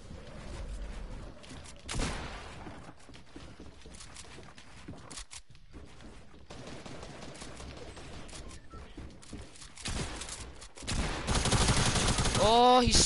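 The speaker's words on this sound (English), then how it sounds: "Yeah, see, there's people shooting at me." Gunfire from players shooting in a Fortnite Battle Royale match, a dense, steady wash of shots at moderate level running throughout, growing louder and harsher near the end.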